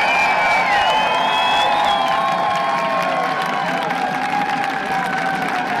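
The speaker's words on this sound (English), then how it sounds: "Another clap and a cheer for Father Bob." Rally crowd clapping and cheering loudly, dense applause with overlapping whoops and raised voices sustained throughout.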